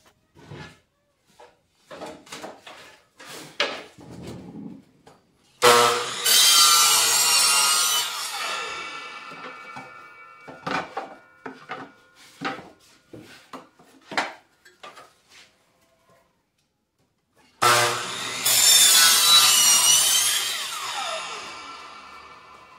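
A power saw cuts a wooden board to make a router base in a workshop: two long, loud bursts of sawing, each several seconds, separated by scattered knocks, clatter and handling of the wood.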